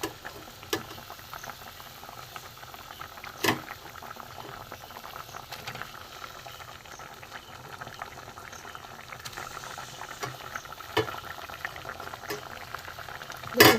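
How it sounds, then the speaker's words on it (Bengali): Egg curry gravy bubbles at a steady simmer in a pan, soft popping and burbling throughout with a few sharper blips, fairly quiet and close with no voices. "ঝোল ফুটে গেছে, এই ডিমের পিসগুলো আস্তে আস্তে আমি বসিয়ে দেবো।"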